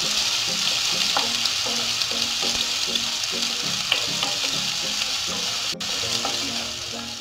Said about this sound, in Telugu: పచ్చిమిర్చి, ఆనియన్స్ ఫ్రై అయ్యే వరకు మనం